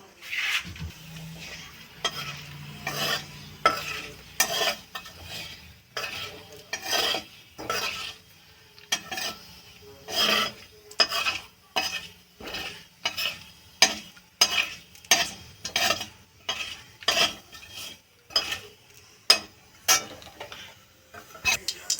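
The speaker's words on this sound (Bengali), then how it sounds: "যেটুকু তেল ছিল সেই তেলেই জিরে ফোড়ন দিলাম 1 চামচ" Cumin seeds tempering in a spoonful of hot oil left in a pan, a faint sizzle under repeated sharp clinks and scrapes of a spoon stirring against the metal in an uneven rhythm.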